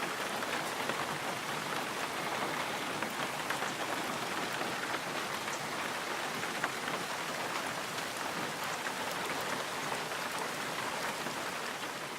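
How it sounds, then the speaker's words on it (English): Steady rain falls in Wisconsin woods, a dense, even hiss of drops on leaves and ground that continues without pause. "If the rain lets up a little bit and the deer start moving"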